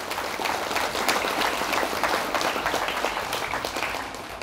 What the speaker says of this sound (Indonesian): Maka tepuk tangan dulu untuk Ainul Ulum ini